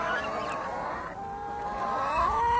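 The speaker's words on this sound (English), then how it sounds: "Here they are just kind of doing their chicken thing, scratching around, looking for bugs," Chickens in an open Punaluu pasture call out with loud, honking clucks and squawks, steady and close throughout, with no talk over them.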